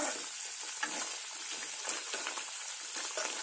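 A spice mixture fries in oil in a wok for tel koi fish, producing a steady close sizzle with light stirring scrapes throughout.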